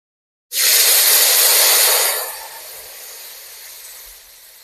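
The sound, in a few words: panch phoron spices sizzling in hot oil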